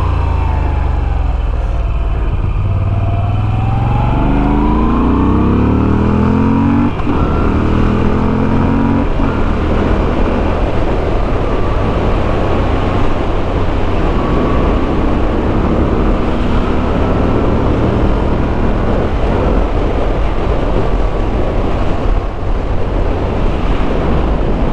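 A 2021 Moto Guzzi V7 motorcycle ridden at dusk: its engine note climbs and drops through several gear changes, loud and close, under constant heavy wind rush.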